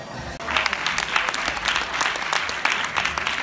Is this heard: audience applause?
yes